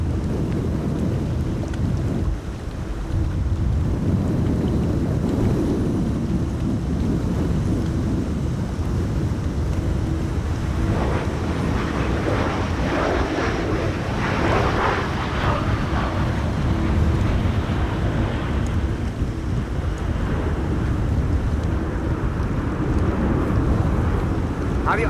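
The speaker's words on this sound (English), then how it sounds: "Wind is definitely picking up here." Strong wind gusts roar and buffet the microphone during Storm Amy at Amsterdam Schiphol Airport, a dense, loud, continuous rumble that swells and eases without pause.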